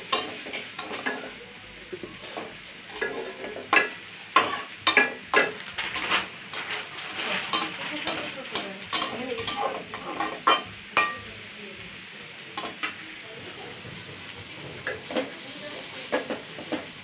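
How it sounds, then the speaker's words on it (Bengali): Onion frying in a pan in a home kitchen, a continuous sizzle broken by repeated scraping and stirring strokes and light utensil clinks, with faint voices in the background. "পেঁয়াজটা ভাজা হয়ে আসছে প্রায়"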